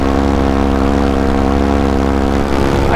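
A paramotor's engine and propeller drone steadily in flight over Miami near the South Beach bridge, a loud, continuous buzzing hum with strong harmonics that barely varies for the whole stretch.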